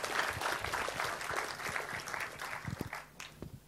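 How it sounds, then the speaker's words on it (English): Audience applause at a C++ programming conference talk, moderate steady clapping that thins out toward the end. "a round of applause"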